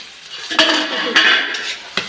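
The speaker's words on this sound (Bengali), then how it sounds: "দেখো ঢাকনাটা খুলে" A metal lid lifted off a cooking pot of morola fish chorchori, with several sharp clanks and scraping clinks of metal on metal, close and fairly loud, over a light sizzle.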